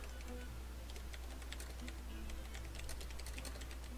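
Steady, quiet clicking of a computer keyboard as a chat message is typed, keystrokes coming in quick, irregular bursts over a low constant hum.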